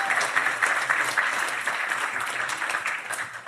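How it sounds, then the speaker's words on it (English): An audience at a live podcast event claps for a young man, giving brisk, continuous applause that carries through the whole moment with slight swells and no speech over it. "Please give him a big round of applause."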